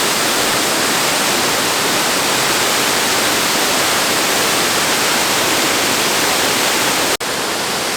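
Huai Kaeo waterfall in Chiang Rai, at its top third tier, gives a loud, steady broadband roar of falling water, continuous and close, with a brief dropout near the end.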